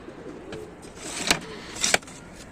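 Young Australian-breed male pigeons at a pigeon sale in Tanta give faint, low cooing over a soft background, broken by two short, sharp fluttering bursts close by.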